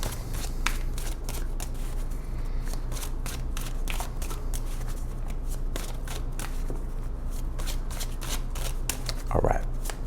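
A deck of tarot cards is shuffled by hand up close, a run of quick papery riffles and slides that repeats steadily, ending in a brief louder burst of cards.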